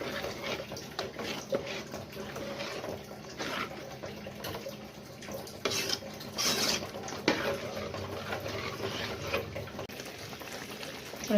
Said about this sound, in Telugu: ఇప్పుడైతే బాగా ఉడుకుతుందండి